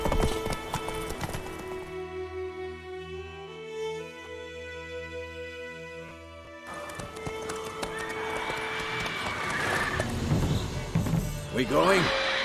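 Horse hooves clip-clop in steady rhythm in The Witcher 3 video game, mixed with a whinny and layered over loud game music and sound effects.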